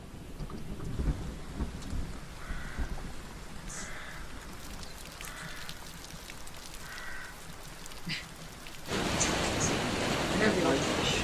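Autumn thunderstorm with steady rain hissing, low thunder rumbling underneath, and the downpour swelling louder toward the end.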